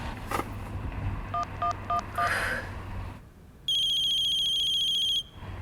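An outgoing phone call that goes unanswered: dialing tones in short beeps, then a steady electronic ringback tone that holds for about a second and a half before cutting off.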